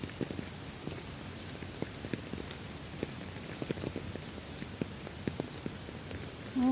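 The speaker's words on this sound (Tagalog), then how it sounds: "Ayan, umuulan." Steady rain patters on a hard surface, with scattered louder drips and taps landing irregularly throughout; no voices.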